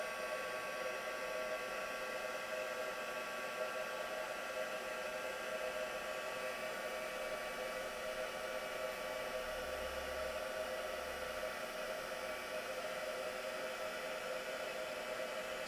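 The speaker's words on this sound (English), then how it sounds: "We're just going to heat emboss these now." A heat gun blows steadily while heat embossing ladybug craft pieces, a continuous whirring hiss at moderate level with a constant tone and no talk.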